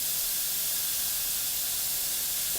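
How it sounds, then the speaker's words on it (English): An airbrush sprays undiluted Badger acrylic paint in a continuous close, steady hiss that stays even from start to end, with no voices. "Bearing in mind we're spraying this neat"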